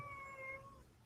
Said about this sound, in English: I think I just heard Oscar meowing.